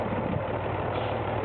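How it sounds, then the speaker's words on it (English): A ZIL-131 truck with a YaMZ-236 engine crosses a wet field, its wheels caked in mud. The engine gives off a steady, moderately loud, continuous rumbling drone. "The ZIL-131 engine YARMZ 236 was crossing a field with wet ground, so the wheels were sticky with a lot of dirt."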